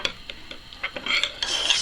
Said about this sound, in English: Sorry about the scraping noise.